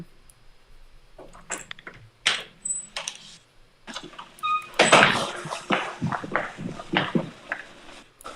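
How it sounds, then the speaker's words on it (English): A door shuts indoors with a sharp, loud thud, surrounded by softer knocks and clattering bumps, and the room falls quiet again afterward. "I heard the door close."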